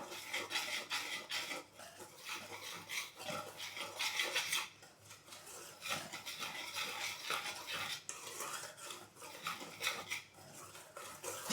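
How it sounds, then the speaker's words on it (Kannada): Bakery-style khara snack batter being mixed with added hot oil, heard as continuous vigorous scraping and stirring against a bowl, close and loud, with no talk. "ಎಣ್ಣೆ ಹಾಕ್ಬಿಟ್ಟು ಚೆನ್ನಾಗಿ ಮಿಕ್ಸ್ ಮಾಡಬೇಕು ಇದನ್ನು"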